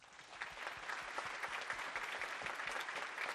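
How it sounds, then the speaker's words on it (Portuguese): Audience applauding a speaker at a tech talk on QA automation and deployment with Kubernetes, dense steady clapping from a crowd filling the whole moment at moderate level. "Salve de palmas para ele, pessoal."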